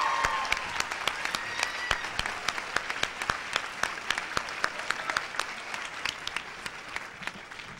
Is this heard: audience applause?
yes